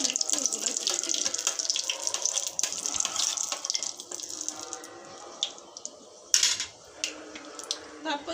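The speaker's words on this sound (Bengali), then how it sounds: "তেলটা গরম হয়ে গেছে, তা তেলটা যখন উষ্ণ গরম হয়ে যাবে তখন একটু এগুলো দিয়ে দিচ্ছি।" Cinnamon, cardamom and cloves sizzle in hot oil for chicken rezala, a loud, steady hiss for about five seconds that then thins out, with a few sharp clinks and scrapes near the end.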